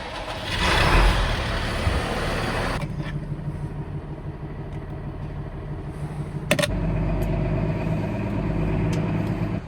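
A new Massey Ferguson farm tractor engine runs steadily at close range, a low continuous rumble with a louder surge near the start and a sharp knock partway through.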